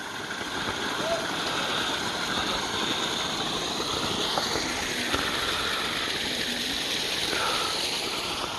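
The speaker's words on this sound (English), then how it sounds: "there's quite a bit of water coming out of there right now" Spring water gushes and splashes steadily from a nearby outflow, a constant broad rush that stays even and fairly loud throughout.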